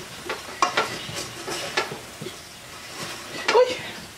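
Caramel is stirred in a pan with a utensil, heard as soft scraping strokes that repeat at an irregular pace, close up, with a faint sizzle underneath and occasional brief murmurs in the background.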